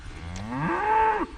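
A cow moos once on a farm, a single drawn-out, rising call that is loud and close and heard alone.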